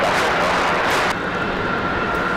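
A Boeing 737 jet takes off from Raleigh Durham airport for LaGuardia on a snowy day, and its engines put out a loud, continuous roar that eases a little partway through.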